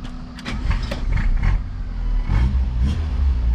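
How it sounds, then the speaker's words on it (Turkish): A Tofaş Şahin with a 1.8 PIC engine running on LPG starts up and settles into a loud, rumbling idle, its exhaust note close by and steady. "Egzoz sesi."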